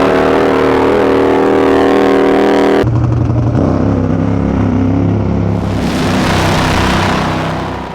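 A Harley drag racing motorcycle engine at the Perth Motorplex top fuel championships roars loudly and close, with a deep, steady, harmonic drone that drops abruptly into a rougher, lower rumble before rising again.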